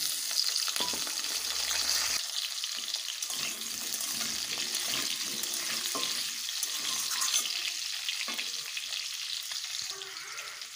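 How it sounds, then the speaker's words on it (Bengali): Potatoes fry in the oil just used for rohu fish pieces, giving a constant bright sizzle with occasional stirring scrapes, close and unbroken for the whole stretch with no voices. "এবারে ওই তেলেই আলুগুলোও ভেজে নেব"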